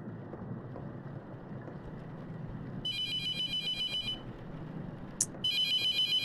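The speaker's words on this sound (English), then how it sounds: "I want to answer the phone." A telephone ringing inside the horror video game The Mortuary Assistant, two bursts of bright electronic trilling over a low rumbling ambient drone, with a short blip between them.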